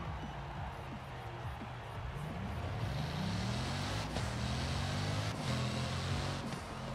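A Bugatti Chiron drives in Forza Horizon 4, its engine droning steadily and climbing in pitch as it accelerates, then easing back and building again, loud and continuous with no talking.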